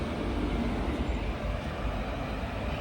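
An Intercity Express train slowing near a signal on the Tirupati to Tiruvannamalai line, heard as a steady, loud low rumble of wheels and carriages rolling on without a break.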